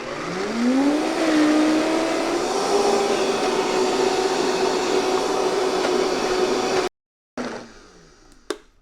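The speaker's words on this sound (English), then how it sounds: "I'll see you after we stop blending" A blender whirs steadily while blending hummus, its motor tone rising at startup and then holding for about seven seconds before cutting off abruptly, followed by faint clatter.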